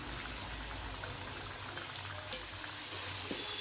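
Dough snacks fry in hot oil on medium heat, a faint, even bubbling hiss that runs steadily throughout with no breaks.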